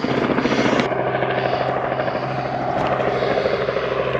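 A helicopter flies over the River Severn near Arlingham, its rotor and engine a loud steady buzzing drone that stays strong for the whole stretch, with a brief shift in tone near the start.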